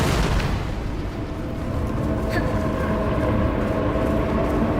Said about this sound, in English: How is this guy sleeping next to non-stop explosions?